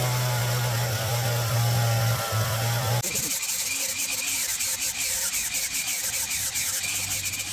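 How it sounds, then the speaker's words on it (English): A sander and grinding tools work over the surface of a carved wood piece. A steady abrasive rubbing and whirring runs throughout, shifting tone partway through, close and continuous with no talk. "Using a sander and grinding tools, I level the uneven texture."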